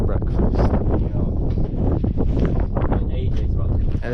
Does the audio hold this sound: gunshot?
no